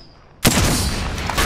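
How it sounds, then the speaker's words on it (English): A sudden burst of gunfire in the Apex Legends battle royale erupts after a quiet moment, a sharp close crack followed by dense, sustained shooting noise that fills the rest of the brief moment. "They're shooting at me."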